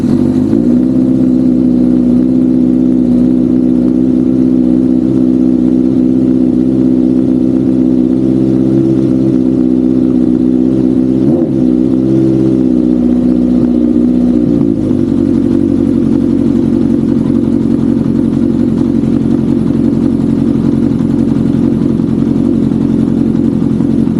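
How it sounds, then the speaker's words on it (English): A Honda CB750 motorcycle engine, started cold with the choke on, idles loud and close with a steady throbbing drone whose pitch drops slightly partway through. "Let's start up with the choke on."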